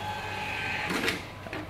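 A restaurant kitchen order printer prints out a ticket for a self-ordering menu system, giving a short mechanical whir and rattle of the print head and paper feed, with a steady electronic hum underneath.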